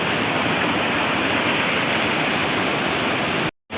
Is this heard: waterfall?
yes